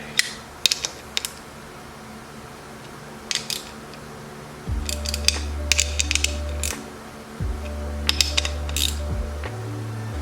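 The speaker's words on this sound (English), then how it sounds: "Now I'm just going to snug all these up yet again with our 1/4" ratchet." A 1/4 inch ratchet snugging bolts on a CR125 bottom end, rapid clicking pawl bursts in several short runs, close and clear, with a low hum underneath.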